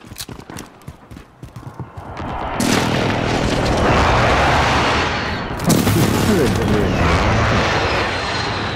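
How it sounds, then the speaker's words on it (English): Precision airstrike in a military shooter video game: a sustained loud roar of aircraft and heavy explosions that builds and swells, with a second blast wave midway, after brief radio chatter at the start. "Enemy precision airstrike inbound."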